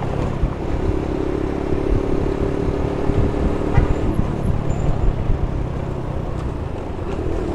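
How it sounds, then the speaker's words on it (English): An SYM Symba motorcycle rides through Lower Manhattan city traffic, its engine droning under loud steady road noise, with a pitch shift around the middle as it downshifts. "Just downshifted from 4th to 3rd. Very easy downshift."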